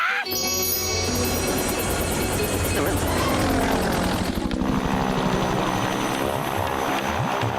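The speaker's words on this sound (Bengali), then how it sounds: "আমি একটা ছোট প্লেনে করে উড়ে যাই" A small cartoon plane flies past with a loud, buzzing propeller drone that stays steady for several seconds, with a sharp shift in tone partway through.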